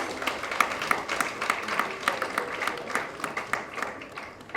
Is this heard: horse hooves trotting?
no